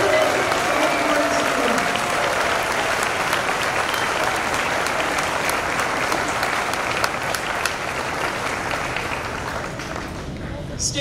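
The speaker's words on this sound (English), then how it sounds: "Let's have a round of applause for these presidential award" Sustained audience applause fills a middle school promotion ceremony as presidential award students are honored. Dense, even clapping from a large crowd carries on for about ten seconds before tapering slightly at the end.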